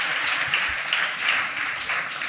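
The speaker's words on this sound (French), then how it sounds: "vous pouvez l'applaudir effectivement" Steady crowd applause fills a Paris event hall at la Bellevilloise, continuous and moderately loud, a dense wash of many hands clapping without pause.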